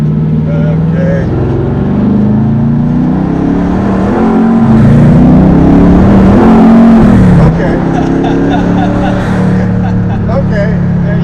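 Twin-turbo 1969 Camaro accelerating hard from inside the car, loud engine climbing in pitch with rising turbo whine, then easing off, with people talking over the roar.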